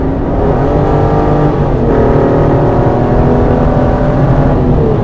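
An Aston Martin's engine drones loudly from inside the car at high speed on a highway, a deep steady roar with a faint rising pitch and heavy road noise, no talk.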